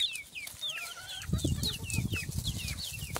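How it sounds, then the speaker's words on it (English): Leghorn chicks squabble over a worm in a garden, giving off a steady run of high, falling peeps and chirps over close, busy clucking and scratching, with no talk. "The chicks are fighting over a worm."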